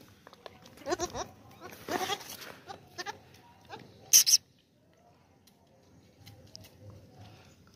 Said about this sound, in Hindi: बड़ी बच्चे वाली बकरी, मक्खी चीनी बकरी है